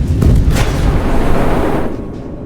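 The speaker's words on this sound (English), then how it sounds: "We're just taking ATGM shots." Loud tank cannon and ATGM impacts in a Roblox tank simulator game, a heavy booming blast with a couple of sharp cracks, then a rumbling decay that fades out.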